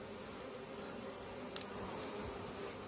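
Honeybees buzzing around a beehive frame while a small hive box is transferred, a dense, steady drone of many wings heard close, with faint clicks of handling.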